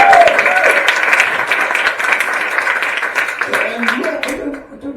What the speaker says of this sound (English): give a round of applause for organising the first night